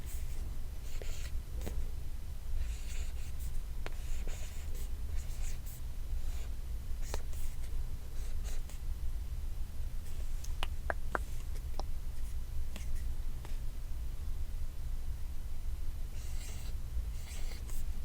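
A marker writes on paper in a close, quiet setting, giving soft, steady scratchy strokes with brief pauses between letters and a low hum underneath.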